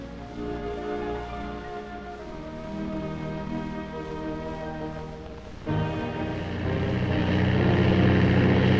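A propeller airplane drones steadily as it arrives at an airport, its engine hum holding level, then swelling louder and rougher near the end as the aircraft draws closer.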